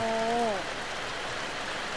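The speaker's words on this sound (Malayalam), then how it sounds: "നല്ല മഴയുണ്ട് കേട്ടോ" A steady wash of heavy rain fills the air, with a brief voice-like tone at the start before the downpour continues alone.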